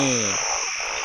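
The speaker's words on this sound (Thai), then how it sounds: "เสียงอึ่งอ่างร้อง ดังสนั่นวันไหวนะครับ" Narrow-mouthed toads calling in the mountains at night, a loud buzzing croak that ends abruptly, set against a steady high chorus of insects and rushing water.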